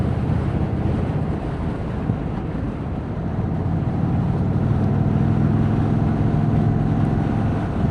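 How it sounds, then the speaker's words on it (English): 2026 Indian Chief Vintage motorcycle engine under way while riding, a steady low rumble blended with heavy wind rush across the microphone, continuous and fairly loud throughout. "Gosh, I really like the sound of this bike."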